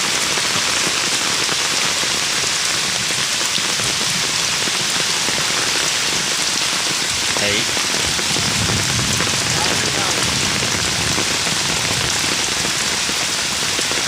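Heavy overnight rain pours steadily onto surfaces around a flooding house, a dense, unbroken hiss of falling water with no pauses throughout.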